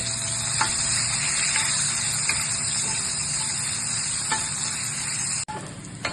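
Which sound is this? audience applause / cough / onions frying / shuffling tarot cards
onions frying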